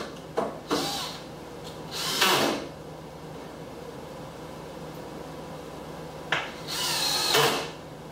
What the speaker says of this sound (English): I screw on a little tab here, and I'll put another tab on the other end.